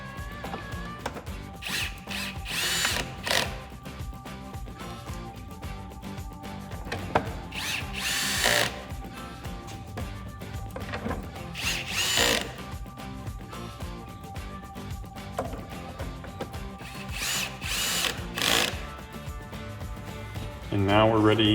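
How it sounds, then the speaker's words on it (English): A cordless power drill drives mirror screws back into a 2004-2014 Ford F150 side mirror housing in several short whirring bursts with pauses between, close and clear, while a person talks intermittently. "we're just gonna put our 4 screws back in"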